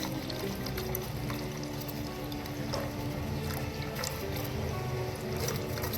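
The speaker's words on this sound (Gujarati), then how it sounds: "જો આપણે તેમાં દૂધ ઉમેર્યું છે" Milk poured into a pot of boiling water while making Rajvadi masala tea, a steady close liquid pour over the bubbling boil, continuous and fairly quiet throughout.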